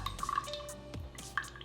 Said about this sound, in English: We're gonna start with some olive oil. Pour that into your jar.